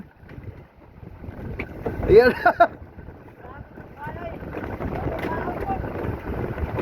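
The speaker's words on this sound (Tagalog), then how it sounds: "Tumabi na kay malakas ang hangin." Strong wind buffets the microphone in rough gusts, with a voice speaking briefly in the middle and a whistling tone rising over the roar.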